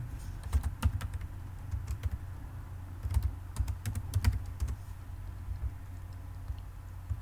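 Someone types Java code on a computer keyboard, with quiet close keystrokes clattering in irregular bursts over a low hum. The typing thins out toward the end and nobody speaks.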